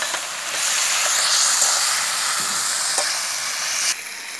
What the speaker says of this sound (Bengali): এগুলোকে ভালো করে আমি কষিয়ে নেব।